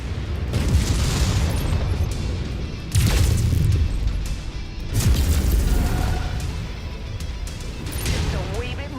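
Missile strikes landing in the video game Mechwarrior 5 Mercenaries, heavy booming explosions in repeated bursts about every two seconds over a constant rumbling battle din, with voices talking throughout.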